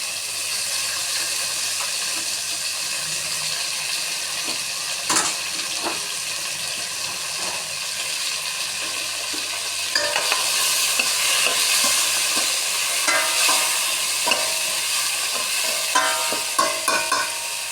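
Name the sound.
tomatoes sautéing in a pan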